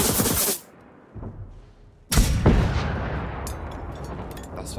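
Heavy gunshots in the video game Generation Zero: a loud burst of fire, a short quiet gap with a faint thud, then another powerful booming shot followed by crackling fire and a long echoing tail.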